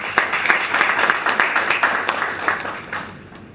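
Conference audience applauding at the opening day of a school on decentralisation, a dense steady clatter of many hands that fades slightly toward the end, with no voices over it.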